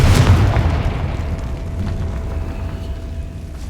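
Confringo fire spell bursts in Hogwarts Legacy inside a decayed catacomb, giving a sharp booming blast at the start that fades into a lingering rumbling tail.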